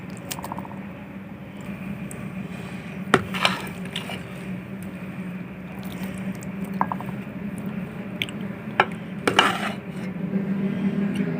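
Aloo gajar matar methi sabzi being served from a pan into a dish: quiet scraping of a spoon against metal with a few sharp clinks and knocks of utensil on cookware over a low background hum.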